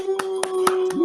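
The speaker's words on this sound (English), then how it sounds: "I'll do the clapping." Four slow, sharp hand claps, evenly spaced and close by, over a steady tone.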